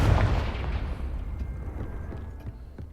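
A Confringo blasting spell in Hogwarts Legacy explodes in a heavy, booming burst that rumbles and slowly decays, followed by fainter scattered pops and debris sounds as the blast fades.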